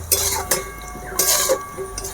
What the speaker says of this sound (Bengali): এভাবে সমস্ত কিছু মিশিয়ে নেব আমি